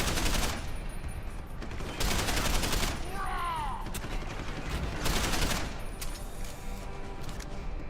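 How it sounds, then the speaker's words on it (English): Gunfire in Deus Ex: Human Revolution aimed at a box, steady bursts of loud, dense shots repeating through the stretch with brief gaps, game sounds layered in between. "I am shooting this box"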